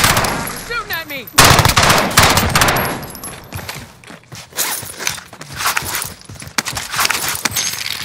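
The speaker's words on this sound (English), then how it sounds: "You're shooting at me!" Gunfire in the video game Call of Duty Modern Warfare: bursts of rapid automatic shots, loud and close, with game sounds and brief voices in between.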